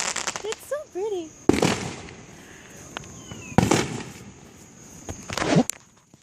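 Fireworks going off during a thunderstorm, three loud, sharp bangs with crackling tails spread a couple of seconds apart, preceded by rising whistles, and voices talking in between.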